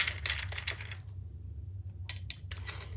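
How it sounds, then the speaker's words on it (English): Light metallic clinks and jingles of metal zipper pulls being handled while sewing a traveler pouch, several quick taps in a cluster, a quiet pause, then a few more close-up rattles. "let's put our zipper pulls on."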